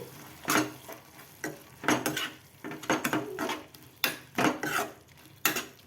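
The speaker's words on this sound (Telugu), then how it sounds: "ఇందులోకి కొన్ని ఎల్లిపాయలు కొంచెం చింతపండు వేసుకొని ఒకసారి బాగా కలిపేసుకోవాలి" Spoon or ladle stirring garlic and tamarind into a pot of jowar sangati, giving repeated scraping knocks against the metal pot in an irregular rhythm, close and moderately loud with no talking.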